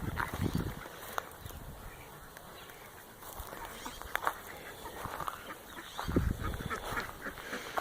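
Outdoor flock noise with quacking ducks and other fowl calling intermittently, some honks and squawks at moderate distance.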